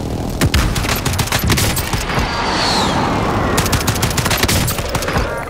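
Sustained, heavy video game gunfire during an airstrike, with dense overlapping shots and booms rolling continuously at close range, loud and steady throughout with no voices.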